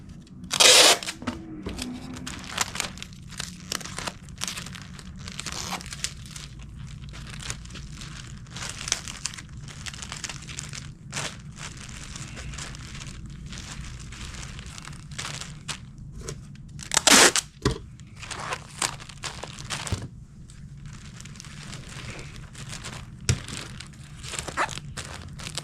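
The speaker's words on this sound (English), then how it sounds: "Go ahead and tape this back up for now, so that way nobody reaches in there and grubs it." A toy box being taped shut, with packing tape crinkling and scraping in a busy run of rustles and a couple of loud ripping pulls, close and with no talking.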